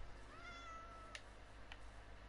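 A cat in a video game gives a single clear rising meow, fairly close and alone against a quiet low background hum, followed by a couple of faint clicks.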